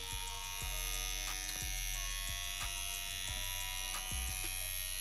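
Coil tattoo machine buzzing steadily while lining practice runs with a police cartridge needle, a loud continuous electric hum with a few brief clicks and pauses in the motor drone.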